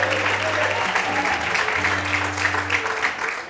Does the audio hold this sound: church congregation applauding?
yes